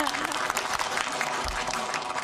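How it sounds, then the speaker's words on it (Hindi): Studio audience applauding on a Hindi quiz game show, with steady dense clapping throughout and some voices and speech mixed in underneath. "एक्सपर्ट्स के लिए तालियां।"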